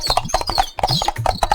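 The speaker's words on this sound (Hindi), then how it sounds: "इतने में गांव की तरफ से घोड़े की टापों की आवाज सुनाई दी।" A cartoon sound effect of horse hooves clip-clopping toward the listener as a horse approaches a village. The hoofbeats come fast and rhythmic, close and fairly loud.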